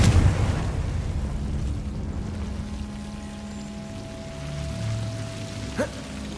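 A Confringo fire spell in the video game Hogwarts Legacy goes off with a booming burst that rumbles and slowly fades, and a second short sharp pop comes near the end.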